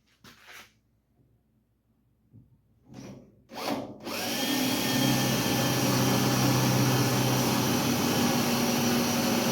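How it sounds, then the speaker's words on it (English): A power drill bores through the door jamb and hinge of a 1956 Dodge panel truck. A few short handling knocks come first, then a steady, loud drill whine runs on to the end. "I'm going to drill a hole right through the jamb and the hinge at the same time, right through both hinges"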